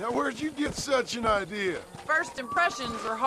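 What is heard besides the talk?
None of the usual background noises is heard.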